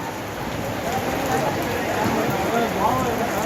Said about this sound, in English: It just started raining heavily.